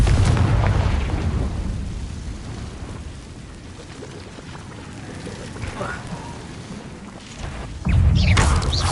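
The Confringo spell bursts in Hogwarts Legacy on PS5, heavy low booms at the start and again near the end, with a rumbling crackle between and a few brief sharp game effects.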